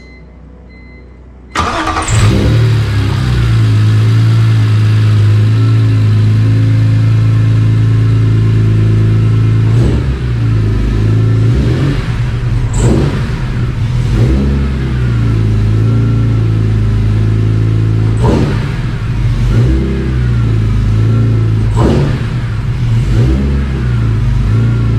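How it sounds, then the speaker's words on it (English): A BMW E46 M3 engine cranks and fires after a moment of quiet, then settles into a loud, close idle broken by several sharp revs. "we're gonna fire the car off real quick, make sure we're all good"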